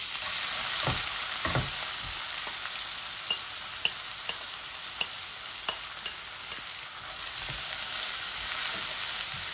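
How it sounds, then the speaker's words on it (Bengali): Onion and red-browned garlic sizzle in a hot pan, a steady close crackling hiss punctuated by repeated clicks and scrapes of stirring. "আমার রসুন গুলা লাল লাল হয়ে গেছে, আমি এখন একটা অনিয়ন দিলাই"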